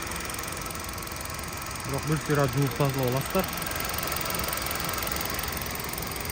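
A 2016 Hyundai Solaris 1.6 with a manual gearbox idles steadily in a low, even drone, while someone speaks briefly over it midway.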